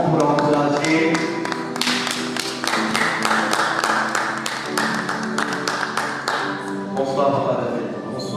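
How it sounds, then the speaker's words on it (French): Conference audience at a motivational session on effective learning clapping to welcome a speaker, a steady patter of claps with music playing underneath, sustained for several seconds. "Alors qu'il s'avance, nous acclamons pour l'encourager."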